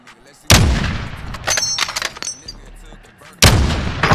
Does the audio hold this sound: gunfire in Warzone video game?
yes